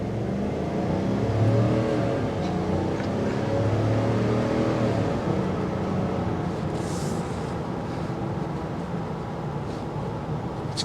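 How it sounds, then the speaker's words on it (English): A 2023 GMC Yukon V8 SUV engine holds a steady, deep drone as it accelerates, with a low rumbling exhaust note that stays loud and continuous. "I always like to hear the exhaust note out of a V8."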